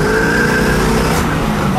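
A 1973 Pontiac Trans Am Super Duty SD-455 drives with a loud, continuous engine roar and a steady tonal whine, heard close up throughout.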